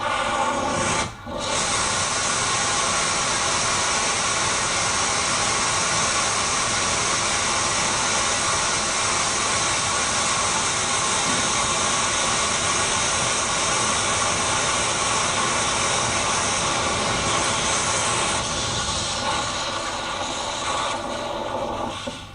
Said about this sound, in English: It's a high impulse and long duration motor.